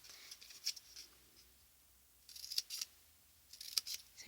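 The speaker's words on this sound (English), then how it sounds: "just snipping off these edges" Scissors snipping off the paper edges of a gift box, several sharp, quiet clipping sounds spaced apart, some in quick pairs, over a near-silent background.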